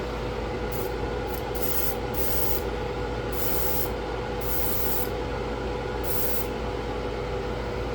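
An airbrush or spray can sprays dark gray paint onto the deck of an Atlantis 1/535 scale USS Iowa model in short repeated bursts over a constant hiss of air.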